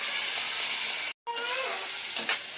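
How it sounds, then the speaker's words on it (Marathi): Spices with turmeric, red chilli powder and tomato paste sautéing in a pan for an aloo bhaji, a loud continuous sizzle with stirring scrapes, broken once by a short cut of silence, close and without talk. "लाल तिखट हळद आता हे परतून घेऊया आता हे वाटण टाकून देऊया टमाट्याचं"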